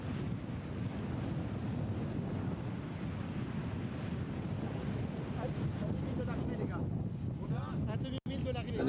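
Strong gusting wind roars over the sea with surf and waves as a racing sailboat finishes the New York Vendée 2024 off Les Sables d'Olonne, a steady, loud blustery rush throughout.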